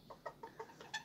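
Small Serama bantam hens cluck close by in a quick series of five or six short soft notes, each one separate, with no other sound.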